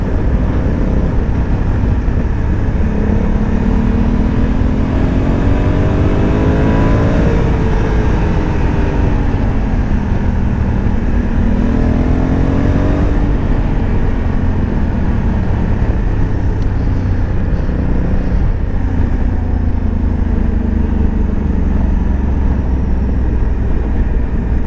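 A motorcycle accelerates on a road ride, its engine note rising and falling through repeated pulls over constant wind rush, loud and close throughout with no talking.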